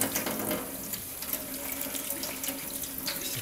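Tap water runs steadily into a sink while items are washed, a continuous splashing rush with faint clinks of objects moving in the basin.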